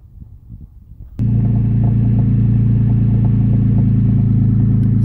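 A 2006 Porsche 911 Carrera S starts with a sudden loud crank-and-catch after a second of quiet, then settles into a steady, rumbling idle heard close up, with no voices.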